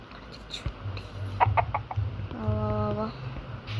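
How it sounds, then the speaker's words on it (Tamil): Chickens cluck in short bursts on a farm, a rooster-like call rising briefly near the end over a low steady hum, fairly close and moderate in level. "கோழி சிக்கிச்சு"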